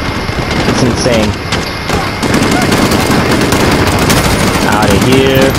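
Rapid bursts of automatic gunfire from the shooter game Modern Warfare (2019) multiplayer, loud and nearly continuous, mixed with game sound effects and a player talking over it.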